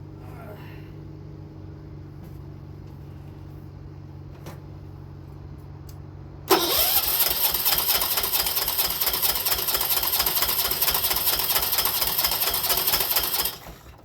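A John Deere 216 lawn tractor engine fitted with a battery cranks after a steady low idle background, then a loud continuous churning roar holds for about seven seconds before cutting off abruptly.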